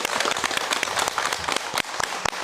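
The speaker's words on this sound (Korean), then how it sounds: "큰 박수로 맞이해 주십시오" Studio audience applause welcoming guests on a KBS Gwangju television program, loud, close and continuous clapping with sharp individual claps standing out.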